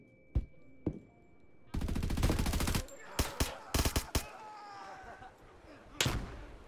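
Rapid bursts of automatic rifle fire in the Roblox shooter Deadline: a few single shots, then a long sustained volley, followed by several short close bursts and a final shot.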